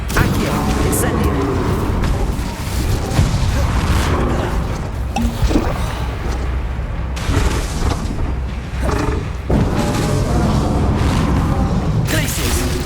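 Spell casts and magical explosions in Hogwarts Legacy combat, a dense run of booming blasts, roaring bursts and whooshes, with a few sharp breaks between volleys and a voice calling out spell names.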